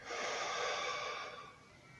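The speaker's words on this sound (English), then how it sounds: "Breathe again in into the middle." A single long breath drawn in during a yoga exercise, a soft airy rush that swells and then fades over about two seconds, close and alone with no talk.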